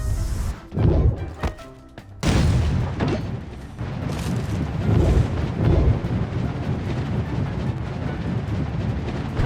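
Heavy booming cannon blasts in the video game Sausage Man go off one after another, loud and close, with deep rumbling tails between shots and no voices over them.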